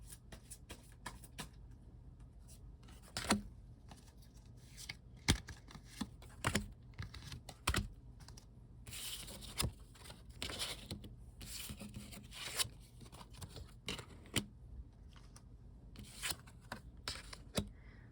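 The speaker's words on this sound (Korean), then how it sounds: "카드 뽑아보도록 하겠습니다." Tarot cards are shuffled and drawn at close range: a run of crisp riffling and snapping card sounds, irregular bursts with quiet gaps, soft and intimate with no voice.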